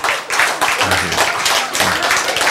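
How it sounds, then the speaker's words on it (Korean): Group applause from a classroom audience during a talk on healthy eating: a dense, steady burst of many hands clapping for about two seconds, loud and close, with faint voices beneath. "박수."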